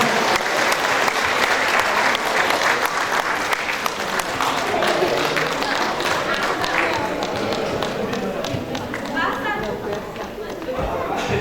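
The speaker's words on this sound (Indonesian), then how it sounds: "Kita beri tepuk tangan meriah untuk timnya Mas Hawardi" Lively applause from an audience for a team at a bootcamp event, loud and sustained with crowd chatter and voices mixed in, the clapping gradually easing off near the end.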